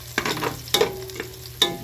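Ingredients for dinuguan sautéing in a pan, with sizzling frying and a few sharp clanks of a utensil stirring against the pan, close and clear with no talking.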